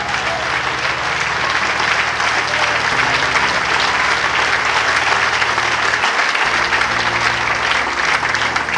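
A church congregation gives loud, sustained applause to the Lord during a pastor's sermon, a thick unbroken roar of clapping, with organ or keyboard tones sounding beneath.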